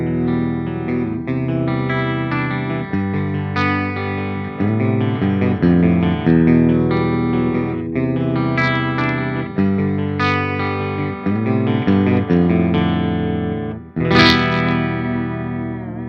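Dean ML 79 electric guitar on a clean channel with no effects, played through its Dimebucker bridge humbucker: picked chords and ringing notes, loud and close, sounding alone with no voices for the full stretch.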